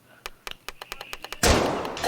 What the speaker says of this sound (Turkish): Oğlum silah sesi geldi.